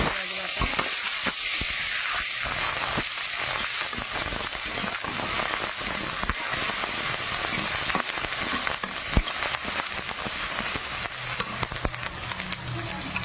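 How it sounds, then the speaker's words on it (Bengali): Nigella seeds crackle and sizzle in hot oil left from frying rohu fish, a steady dense frying hiss running the whole time with small pops and stirring clicks, close and fairly loud, no voices. "এবার আমি ওই তেলেটি দিয়ে দেবো কালো জিরে"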